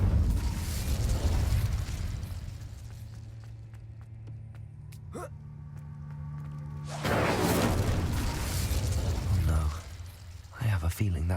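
An Incendio fire spell cast in the video game Hogwarts Legacy, a loud whooshing burst with crackling flame that fades into a humming lull, followed by another roaring blast and sharp pops.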